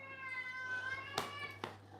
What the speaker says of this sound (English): The cat and dog are having an absolute conniption here